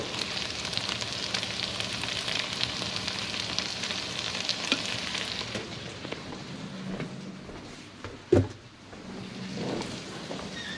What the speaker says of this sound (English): I'm going to add a little bit of olive oil to this